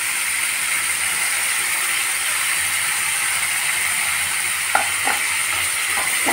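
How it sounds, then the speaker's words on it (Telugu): Ginger garlic paste frying in a pan for a coriander mutton curry, a loud steady hiss of sizzling oil, joined near the end by a few sharp scraping strokes of a spatula stirring the paste. "అల్లం వెల్లుల్లి పేస్ట్ వేసాం కదా, కాసేపు వేగాలి."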